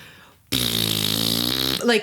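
A voice imitates a long fart, holding a loud buzzing, vibrating tone for over a second before breaking into laughter or talk.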